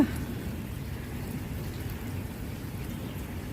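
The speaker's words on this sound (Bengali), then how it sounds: "এই দেখো বিদ্যুৎ চমকাচ্ছে কি সাংঘাতিকভাবে তাও আমি ছাদে এসেছি একটু দেখানোর জন্যে যে কি পরিমাণ বৃষ্টি হচ্ছে দেখো" Heavy rain pours steadily onto a rooftop during a lightning storm, a dense, even hiss with no pauses and no speech.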